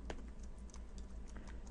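Quick, light keystrokes on a computer keyboard as a formula is entered into an Excel spreadsheet, a steady close patter of clicks with no talking.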